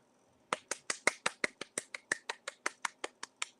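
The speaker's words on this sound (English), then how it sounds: "I don't know if you can hear me clapping." A single person claps by hand in a quick, steady rhythm, about twenty sharp close claps in a row.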